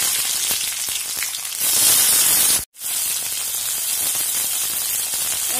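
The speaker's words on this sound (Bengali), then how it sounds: "এখন আমি মিডিয়াম ফ্লেমে বেগুনটাকে ভাজতে থাকব।" Cubed brinjal (eggplant) frying in hot oil with black cumin seeds on medium flame, a dense steady sizzle with a louder burst partway through and a very brief dropout, no talking.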